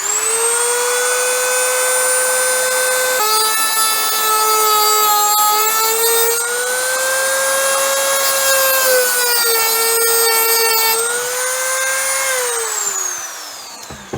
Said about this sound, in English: So let's give it a bit of Dremel. It's going to be a bit loud,